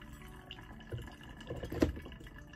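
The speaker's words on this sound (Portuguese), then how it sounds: "Escaldem bem o filtro aqui" Hot water poured over a coffee filter to rinse it, a soft, close trickle and splash of liquid building briefly, quiet and alone.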